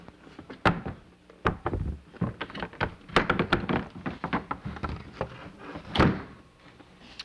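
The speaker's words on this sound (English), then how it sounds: "We're just going to slide it right in between the T-steel and the booth steel." A steel center booth door slid between T-steel and booth steel framing, giving a run of irregular metallic thunks, taps and knocks at close range with no talk over it.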